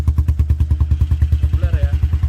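A Kawasaki Eliminator 175 motorcycle engine idles close by with a steady, loud, even thumping rhythm of quick firing pulses, running alone.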